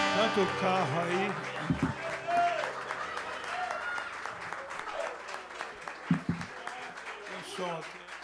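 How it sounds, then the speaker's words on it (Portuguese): A church congregation at a men's worship service in Jardim Embura, Santo Amaro, São Paulo, claps together in sustained applause while a voice speaks over it. "As palmas bem forte para o Senhor Jesus."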